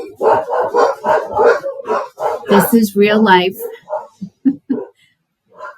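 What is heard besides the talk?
dogs barking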